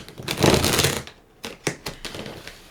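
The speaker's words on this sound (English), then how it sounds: "I'm going to shuffle that one more time." Tarot cards being shuffled by hand, a dense riffling burst for about a second, then a pause and several short separate flicks and taps, close and fairly loud with no talking.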